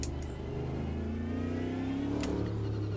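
Race car engine in the Automobilista 2 sim racing game, a steady sustained drone rising gradually in pitch under acceleration, loud and close, with brief bursts of higher noise as gears or kerbs pass.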